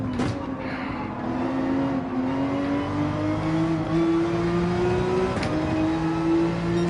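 A Porsche 911 in the racing game Gran Turismo 7 on the Deep Forest track revs hard, its engine note climbing steadily, with a brief shift-like break and then a renewed rising drone, all without talk.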